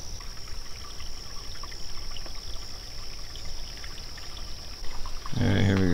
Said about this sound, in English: So we need to just get across this little tiny river right here.